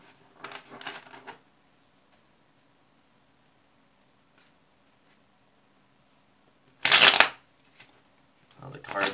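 Tarot cards shuffled in short bursts, a soft riffle early on and a loud close crisp shuffle later, separated by near silence, with brief voice sounds.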